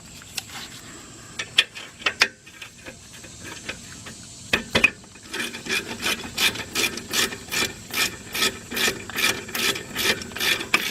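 A ratchet turning a 7mm hex socket bolt on the rear brake of a 2001 Jeep Grand Cherokee Laredo: a few scattered clicks, then a run of rapid, evenly spaced ratcheting clicks up close, with no talking.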